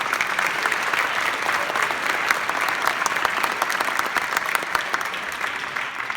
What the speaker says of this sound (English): give one more big round of applause for all the great poems we've heard tonight